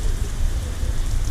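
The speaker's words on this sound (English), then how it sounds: "but raining pretty hard." Heavy rain pours down hard amid gusty winds near a Ford Bronco, a dense, steady roar of nearby downpour with slight surging in intensity.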